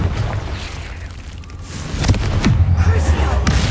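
Confringo fire spell blasting in Hogwarts Legacy, a deep booming burst with crackling fire that grows louder partway through, heavy and close over a rumbling game background.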